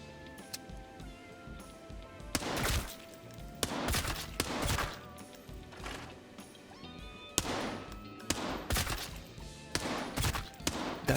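Vector 45 submachine gun in Arena Breakout Infinite, firing Tier 4 .45 ammo in repeated short bursts and single cracks spread irregularly across the stretch, loud and close with brief pauses and a bit of background noise between volleys.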